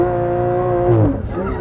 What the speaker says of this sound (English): '22 Porsche 911 GT3 with launch control.